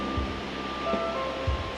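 An 80-metre free-falling waterfall, Cachoeira Bonita on the José Pedro river in Brazil's Caparaó region, roars as a loud, continuous wash of water, with soft musical tones above it.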